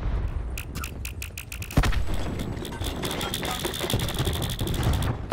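A grenade goes off in Call of Duty Black Ops 4 with a sharp, heavy blast partway through, followed by sustained rumbling noise, preceded by a run of rapid rhythmic clicking taps.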